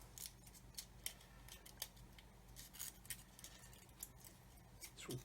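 Scissors trimming material on a Revell 1/144 Apollo Saturn V model kit: a quick series of small, crisp snips and clicks, close and faint, irregularly spaced over a quiet background with no voices.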